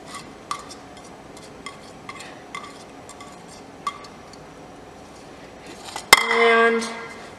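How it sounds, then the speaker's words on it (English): Onions go into a pan and are stirred, with light clinks of a utensil against metal followed by a sudden clatter and a brief burst of sizzling, moderately close and with no talk. "so what you want to do is you want to add, you want to add your onions,"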